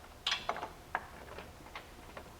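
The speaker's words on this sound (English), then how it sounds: "we're going to go ahead and remove the two lower bolts to the condenser" A ratchet wrench loosens the two lower condenser-to-radiator bolts on a 2003 Hyundai Santa Fe, giving a few faint, irregular mechanical clicks spread across a quiet background.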